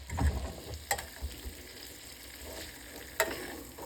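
A pork chop sizzles in a skillet with a steady, quiet frying hiss. A few sharp clinks and scrapes come through near the start and again toward the end.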